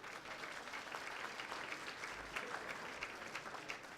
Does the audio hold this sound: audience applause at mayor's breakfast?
yes